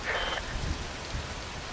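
Rain falling in the video game Metal Gear Rising: Revengeance, a dense, steady hiss of downpour with drops spattering on surfaces, filling the scene throughout with a low rumble underneath.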